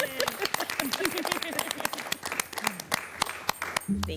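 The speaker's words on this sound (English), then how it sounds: "we even have some people in the audience to clap this time, because usually it's just us applauding" Scattered clapping from a small audience at a meeting with sharp, separate hand claps spread unevenly across the moment, while a voice murmurs faintly beneath.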